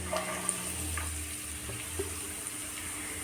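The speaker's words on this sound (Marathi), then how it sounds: "मोठ्या गॅसवरच आपल्याला भाजी परतून घ्यायची आहे व्यवस्थित" Vegetables for egg fried rice stir-fried over a high gas flame in a pan, producing a constant close hiss and sizzle with a few soft scraping knocks, no talking.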